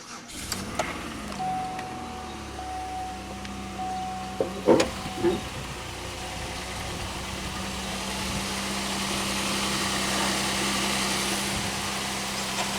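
A Pontiac Aztek engine idles steadily, a low continuous hum with a few clicks and knocks early on, heard close and without any talking.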